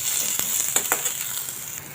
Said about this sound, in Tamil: போட்டு நல்லா வணக்கணும்.